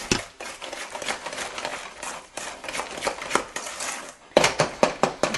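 Sugar and butter being mixed for chocolate chip cookie dough: repeated close clattering and scraping strokes of a utensil against a bowl in an uneven rhythm, growing sharper and louder near the end.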